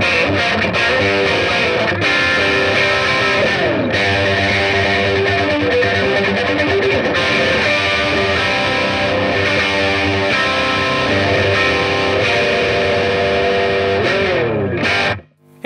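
A distorted electric guitar plays an intro riff with a thick, doubled tone from a DD3 into an Astoria Custom, loud and steady, cutting off abruptly at the end.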